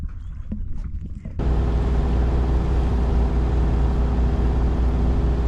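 A sailing boat's engine starts up off the Isle of Arran on the west coast of Scotland, shifting from quiet surroundings into a loud, steady, low-pitched engine drone that continues to the end.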